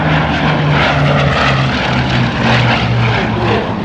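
Bristol Blenheim Mk I twin piston engines and propellers roaring at the Battle of Britain Air Show 2017, a loud, close, continuous drone with a steady throbbing beat, heard alone.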